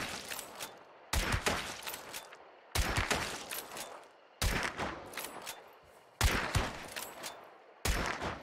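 Slow, deliberately spaced gunshots in Hunt Showdown fire one at a time, each a loud close crack with a short decaying tail, about five or six shots at steady intervals.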